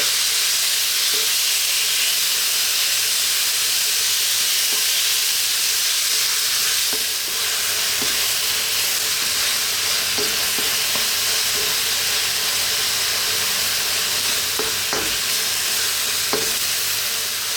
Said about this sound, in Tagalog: So, lulutuin ko lang yung ating giniling ng mga 5 minutes.